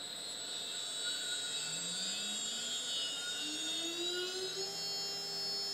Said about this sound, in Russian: Включаем шпиндель.